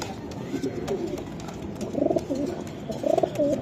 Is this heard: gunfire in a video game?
no